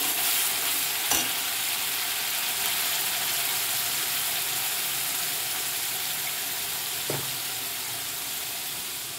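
Onion and garlic masala paste for a radish, cauliflower, capsicum, carrot and potato curry sizzles steadily in a pan, with a continuous hissing fry and two brief knocks of a spoon stirring.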